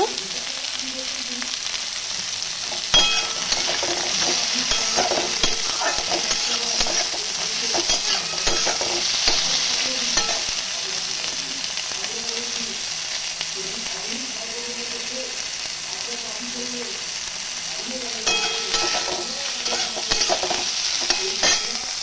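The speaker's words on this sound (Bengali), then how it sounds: "টমেটো, আলু আর পেঁয়াজকে আমরা ভালো করে একসাথে মিশিয়ে ভেজে নিলাম ভালো করে।" Tomato, potato and onion stir-fry together in a kadai with a continuous close sizzle, marked by repeated scraping and clicking strokes of a spatula throughout.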